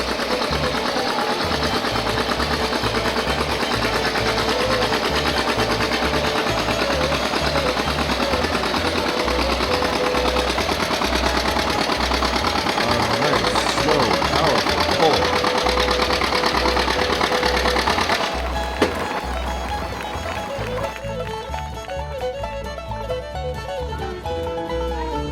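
A John Deere 730 antique tractor pulls a 14,000-pound sled at a county fair tractor pull. Its engine chugs loudly in a rapid, continuous rhythm, and the note shifts and thins near the end as the pull finishes.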